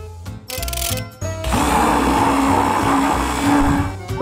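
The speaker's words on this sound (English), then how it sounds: "Now ice cream and put it in the blender." A blender mixing ice cream, Nutella and milk runs in a few short pulses, then settles into a steady loud whirring grind that continues to the end.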